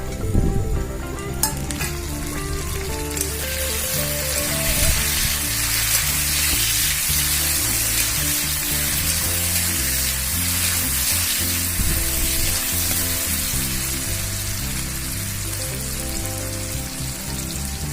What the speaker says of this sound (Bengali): ভালো করে আমরা মশলাটা কষে নেব।